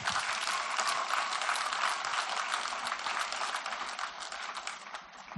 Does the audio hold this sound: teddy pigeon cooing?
no